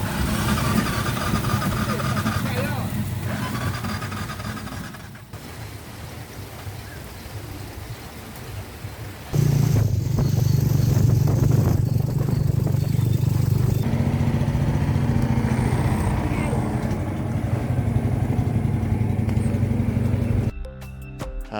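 A boat engine runs roughly and unevenly at the Amazon riverboat area in Iquitos, Peru, a continuous loud rattling drone that jumps to a heavier, throatier roar partway through.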